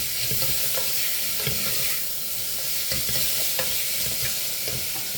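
Onions with half a tablespoon of salt being stirred and sautéed in a pan for chicken curry: a constant loud sizzle with repeated spoon scrapes and stirring strokes, no talking.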